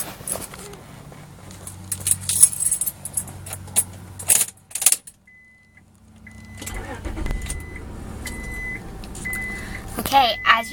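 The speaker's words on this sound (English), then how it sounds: "let's crank it up and see how it runs." Keys jangle near a 2000 Honda Accord before the ignition, then a chime pulses steadily and the engine cranks and catches near the end, with people talking over parts of it.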